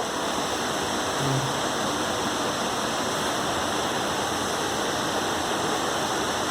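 Gundicha Ghagi waterfall in Keonjhar, Odisha, during rain, a dense, continuous roar of falling water that stays loud and steady throughout without pause, heard up close with no voices over it.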